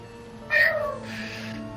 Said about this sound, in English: she meows